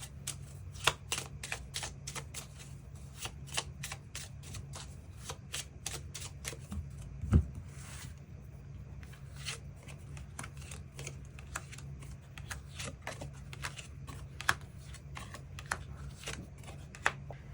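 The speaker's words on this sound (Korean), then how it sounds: "추가 카드 뽑아보도록 하겠습니다" Tarot cards are shuffled and drawn for a Korean weekly reading, with a long run of soft, rapid papery clicks and snaps at close range and one heavier tap midway, without speech.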